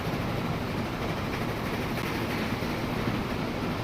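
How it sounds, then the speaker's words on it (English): Freight train rolling along in Transport Fever 2, a continuous dense rumble and rushing noise at steady loudness with no talk. "We do have a full train with machines heading back."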